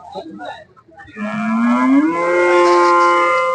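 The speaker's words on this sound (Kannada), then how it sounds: "ಫ್ರೆಂಡ್ಸ್ ಇಲ್ಲೊಂದು ಹಸು ತಂದಿದ್ದಾರೆ" A Jawari-mix cow at the Nulvi cattle market in Karnataka lets out one long, loud, rising moo close by, after brief background market noise.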